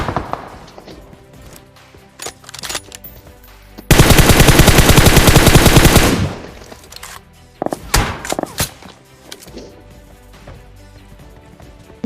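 Rapid automatic gunfire in a shooting video game, scattered single shots and short bursts, then a dense sustained two-second volley of loud cracks before sporadic shots resume, with faint talking underneath.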